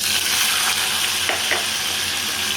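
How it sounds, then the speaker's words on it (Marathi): Curry leaves, onion, tomato and potato fry in a pan in a home kitchen, a steady dense sizzle with a few soft stirring scrapes, close and alone. "कढीपत्ता कांदा टमॅटो बटाटा हे पाहिजे सगळं त्यामध्ये टाकून दिलेलं आहे भाजलेलं आहे"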